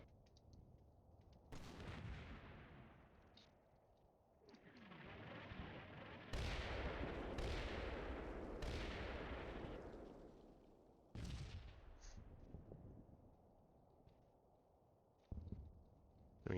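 Artillery shells landing in the war game Combat Mission, several heavy booming impacts with long rumbling decays spread over the clip, moderately distant, with no speech.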